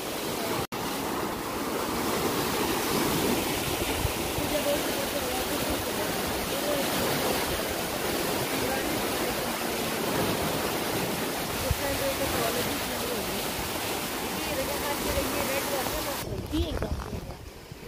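Water rushes through a Panama-style canal lock during a boat crossing, a loud, steady roar of churning flow that continues unbroken, with a voice speaking over it.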